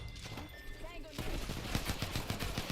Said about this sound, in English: Oh, getting shot at.